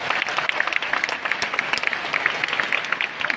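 An audience claps at a Nick Vujicic motivational talk during the Nu Skin SEA Convention 2018, a continuous patter of applause filling the hall at moderate volume.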